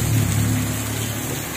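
Heavy rain during flooding in Iligan pours down in a steady, loud hiss with a low rumble underneath, continuous and unbroken throughout.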